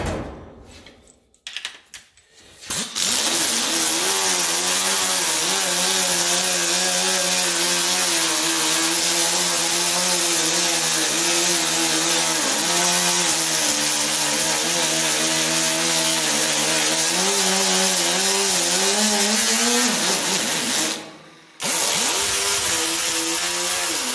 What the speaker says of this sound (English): So let's get this grind down here now and here and see what it looks like.